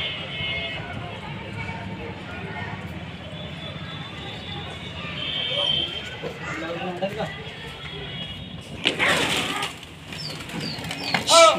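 Pigeons flap their wings in a brief, loud burst as they are released during a gole kabootar flying contest in Hyderabad, set against steady outdoor noise while someone talks over much of it.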